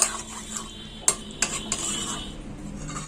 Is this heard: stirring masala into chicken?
yes